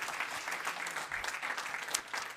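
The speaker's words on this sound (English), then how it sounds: "So one applause for them, please." Audience applause at a table tennis health congress, a brief burst of steady clapping from a crowd, moderately loud and even throughout.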